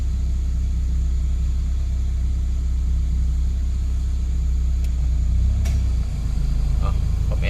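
A car engine idles steadily during an air-conditioning thermostat check, a continuous low rumble with a constant hum that holds throughout, with a couple of faint clicks and small shifts near the end.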